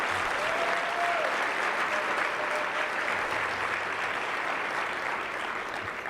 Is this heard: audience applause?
yes